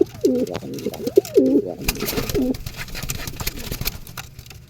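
Several soft pigeon coos in quick succession near the start, then a low engine-like rumble and background noise continue.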